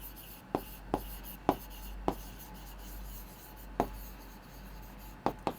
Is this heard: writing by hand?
yes